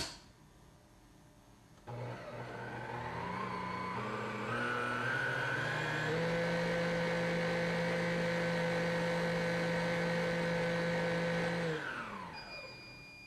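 A Cuisinart stand mixer whisks with the chef's whisk at speed 9: the motor hums up in steps to a steady, loud whine, holds for several seconds, then winds down and stops.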